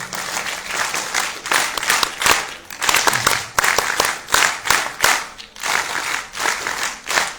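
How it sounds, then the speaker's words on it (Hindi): An audience at a university lecture claps loudly and continuously, a dense wash of applause with rhythmic surges and no voices on top. "एक बार जोरदार तालियां अपने लिए आप लोग।"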